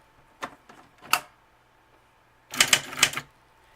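An electric typewriter with a full QWERTY keyboard clacks through a few isolated keystrokes, then a quick burst of several sharp mechanical strikes, heard close and alone.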